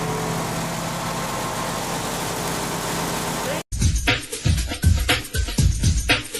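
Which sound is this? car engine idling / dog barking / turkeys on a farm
car engine idling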